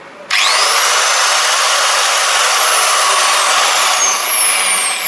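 A Dong Cheng DSM08-100 800W 100mm angle grinder switches on after a moment of quiet, then runs at a loud, steady, high-pitched whine close by, with no one talking.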